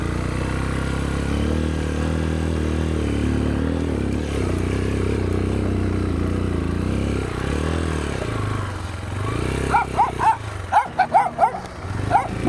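On a long dirt-road ride along the Estrada Real, a motorcycle with a stripped front sprocket drones steadily, then several dogs break into a run of sharp, close barks and yips as it passes.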